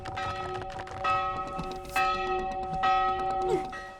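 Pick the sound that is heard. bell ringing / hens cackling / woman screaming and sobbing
bell ringing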